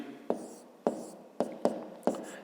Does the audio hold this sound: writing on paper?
yes